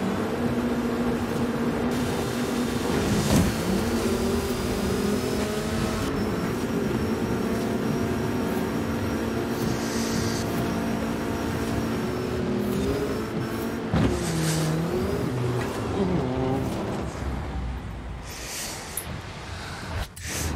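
Car in the Forza Horizon 5 video game accelerating hard from a standing start, engine droning steadily and loudly with rising revs and gear shifts over about twenty seconds.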